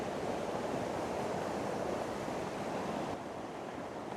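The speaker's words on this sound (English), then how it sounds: "The river is quite thunderous down here, smashing against the large rocks." A river rushes with a loud, thunderous, steady roar as it smashes against large rocks below Horseshoe Falls in Marsden, West Yorkshire, and the broadband noise dips slightly near the end.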